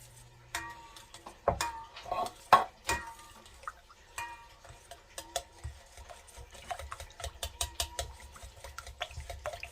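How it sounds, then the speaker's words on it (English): A spoon stirs a creamy baked chicken mixture with irregular scrapes and clinks against the dish, some sharp and close, spread over about ten seconds with quieter stretches between. "let's stir this in."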